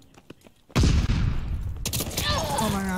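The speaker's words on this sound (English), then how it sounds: "Stun grenade out!" A stun grenade detonates in Call of Duty Modern Warboys 2 ranked play: a sudden loud blast after quiet, then a sustained ringing, hissing wash with a rising tone, under brief speech beforehand.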